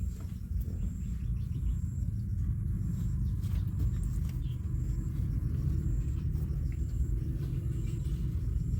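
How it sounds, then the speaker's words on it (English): A truck unloading driveway fill at a new home build site rumbles continuously outdoors, its low engine drone steady and fairly close throughout. "The guys are just loading it off the truck right now."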